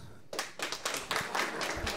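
A handful of audience members at a Star Wars comedy show clap in sparse, distinct bursts, close and fairly quiet, picking up into a few more claps toward the end.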